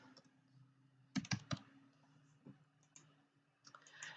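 Typing on a computer keyboard: a few quiet key clicks, then a quick cluster of sharper taps, with scattered single keystrokes afterward, close and alone in a quiet room.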